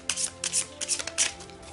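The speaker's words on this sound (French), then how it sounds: "Je vais mettre les cartes comme ceci." Tarot cards being shuffled and laid out on a table, giving a run of close, crisp riffling and slapping bursts in quick irregular succession, with no talk.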